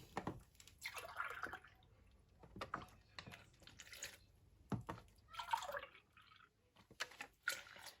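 Cold milk, about one and a half glasses, poured into a packet of plain pastry cream powder, giving faint liquid trickling and dripping in uneven bursts with quiet gaps between.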